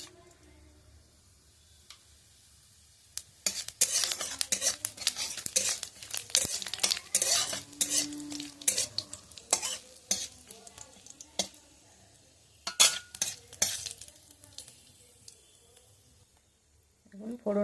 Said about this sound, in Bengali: এবার ওর মধ্যে দিয়ে দেবো একটু তেল, আর ফোড়নের জন্য আমি এখানে দেব 5 ফোড়ন আর শুকনো লঙ্কা